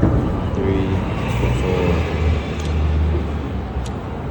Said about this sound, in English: we'll wait for some cars, like right here